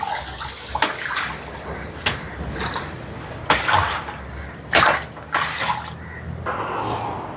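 Water poured into rice in a pot for chicken biryani, a splashing, gurgling flow heard close with several louder surges and splashes over about seven seconds, no voices.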